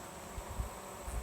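Honeybees at a Layens hive buzz in a dense drone close to a phone, with soft low knocks as they bump into its case, under light wind.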